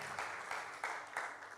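Clapping from a church congregation, a steady wash of many hands with a few swelling pulses, moderately loud and continuous across the short stretch with no talk over it.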